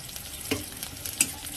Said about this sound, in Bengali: এবার কড়াইতে দিয়ে দিলাম পাঁচ ফোড়ন